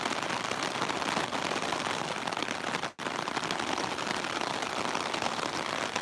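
Heavy rain pouring down in a New York City downpour, a dense, steady hiss of drops hitting surfaces, loud and continuous with a brief dip midway and no voices.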